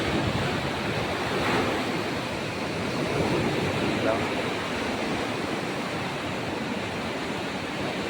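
Strong ocean waves break on a beach at 6:30 in the morning, heard as a steady wash of surf under some wind buffeting on the microphone, with faint talk in the background.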